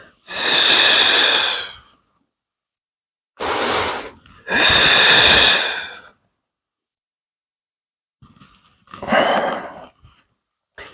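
Strong, breathy exhales and inhales during a Pilates flexion workout, four long airy breaths separated by silence, close and loud, each lasting one to two seconds, with no speech over them.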